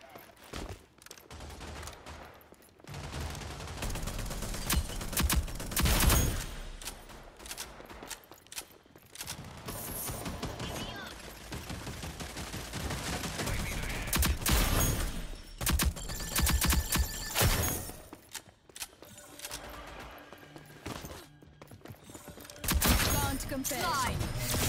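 Shotgun fire in a video game: repeated loud, punchy blasts come in clusters with brief lulls between them, against busy game noise across the whole stretch.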